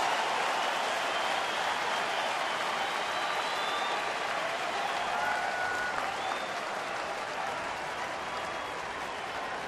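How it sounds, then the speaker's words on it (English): Big stadium crowd at a Detroit baseball game roaring and applauding in a steady, sustained wall of cheering, loud and continuous throughout with no break. "Here comes the crowd."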